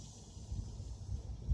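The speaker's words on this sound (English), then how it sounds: "it's getting kind of windy, guys, so sorry about the wind sound" Wind buffeting a microphone outdoors, low rumbling gusts that swell and fade over a short stretch, with no voices.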